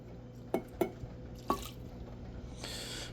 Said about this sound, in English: So we're gonna add in about another cup of water.